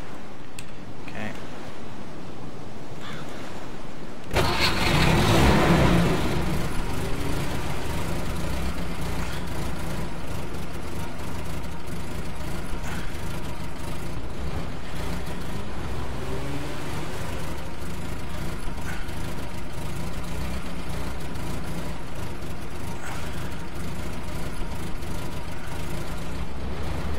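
A vehicle engine in the DayZ game turns over and starts abruptly, then settles into a steady, loud idle and running drone that continues unbroken, with no talk over it.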